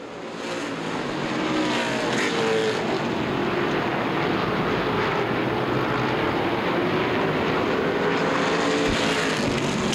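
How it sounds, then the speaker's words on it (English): CRA street stock cars racing at Winchester Speedway, a dense, loud roar of multiple V8 engines at full throttle sweeping past down the straightaway, sustained and swelling throughout. "plenty of power in that 11 car down the straightaways"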